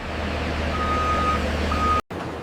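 A truck's reversing alarm beeps at a skincare factory distribution center during pallet loading, giving two sustained electronic tones over a low engine rumble before a brief cut in the sound.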